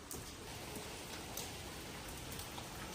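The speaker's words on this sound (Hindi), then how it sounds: "वाह इतनी तेज बारिश हो रही है।" Heavy rain falling outside a house, a dense, steady hiss of drops with no break, even and moderately close.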